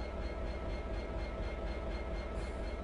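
Train running on rails on the Settle to Carlisle line in Train Simulator, a steady rumbling roll with a faint rhythmic pulse, loud and continuous with no talk.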